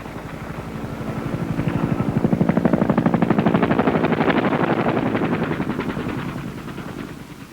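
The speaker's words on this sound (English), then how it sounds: "The Cobras go into a protective pattern above the LZ, usually a butterfly, firing at any targets which could threaten the landing." Cobra AH-1J attack helicopters fire their guns above a landing zone, a loud rapid rattling burst over the throbbing rotor noise that swells and fades over several seconds.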